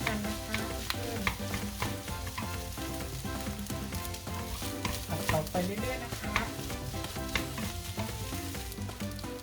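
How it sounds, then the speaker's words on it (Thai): Cooked day-old rice stir-fried with shrimp in a pan for Kenny-style pineapple fried rice, a loud, continuous sizzle with repeated rhythmic scraping and tossing strokes close up. "ต่อไปเราจะใส่ข้าวสวยลงไปนะคะ ข้าวบะลิหนึ่งนะคะ ใส่ลงไปนะคะ"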